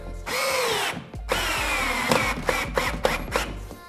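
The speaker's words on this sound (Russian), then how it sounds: "Устанавливаем и просто притягиваем на те же желтые саморезы." Power drill driving yellow self-tapping screws while fixing panels for new apartment walls, a loud steady whine that runs in two long bursts and then breaks into short pulses with a few clicks between them.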